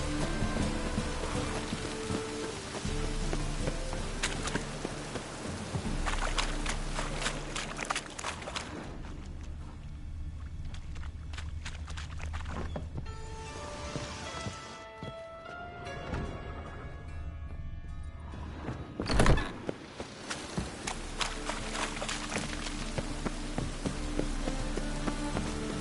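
Steady rain patters across the landscape of The Witcher 3 video game, a soft constant hiss broken by faint ticking, buzzing and scattered footsteps, with no clear speech.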